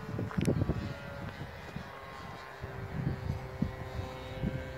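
A radio-controlled 500-size Cessna 182 model airplane flying in to land outdoors, its engine a steady mid-distance drone under wind, with a few bumps and handling noises nearby.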